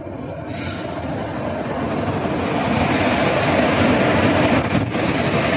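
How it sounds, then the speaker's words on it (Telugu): The Tirupati–Puri Express rumbles loudly and steadily as it rolls into the platform, with a brief squeal of wheels near the start. "మన ట్రైన్ అయితే మాటలో వచ్చేసింది"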